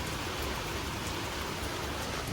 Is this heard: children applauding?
no